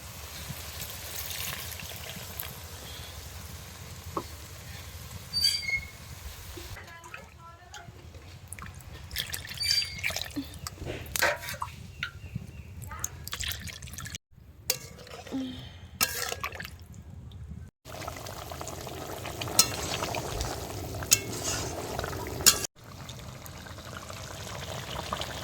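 Spice-washing water is poured into a village-style pangash fish curry, giving a quiet, intermittent splash and trickle with scattered drips and brief pauses, faint against low background noise.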